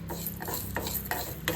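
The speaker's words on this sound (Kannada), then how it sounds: "ಸ್ವಲ್ಪ ಉದ್ದಿನಬೇಳೆ ಮತ್ತು ಕಡಲೆಬೇಳೆನ ಹುರ್ಕೋಬೇಕು." Urad dal and chana dal dry-roasting in a pan on low flame, a close scraping stir with rhythmic strokes of the spoon and a light dry rustle of lentils against the metal.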